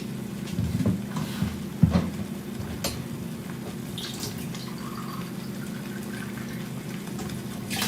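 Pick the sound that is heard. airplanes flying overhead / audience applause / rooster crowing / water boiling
water boiling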